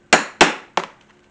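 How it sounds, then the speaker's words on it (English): Three sharp, loud hammer blows strike a metal punch through thick leather for an inside-the-waistband holster, evenly spaced with ringing decays and nothing else around them. "pound this punch through so much leather"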